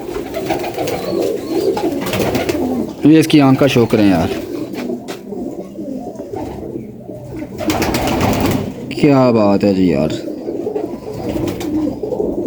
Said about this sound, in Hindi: आला किस्म का कबूतर है यार